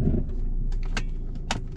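A car reversing slowly during a driving lesson gives a low, steady engine rumble close by, with a few brief mechanical clicks over it and no talking.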